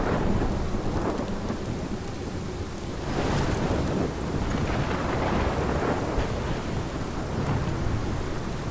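A thunderstorm in the video game Life Is Strange: steady, loud heavy rain hisses throughout under continuous deep rolling thunder, with a stronger thunder swell about a third of the way in, and no voices.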